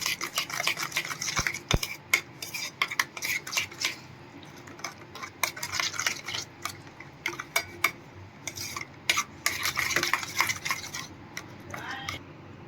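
Spoon stirring garam masala and salt into yogurt for paneer tikka, scraping and clinking against a bowl in a steady run of close, soft-to-moderate taps and scrapes with no talk.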